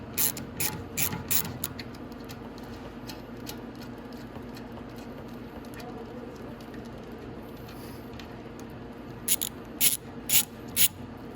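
A ratchet wrench works a nut beneath the gas tank of a Venom X18 motorcycle, clicking in quick close bursts at the start and again near the end, with a quieter stretch of low background hum between.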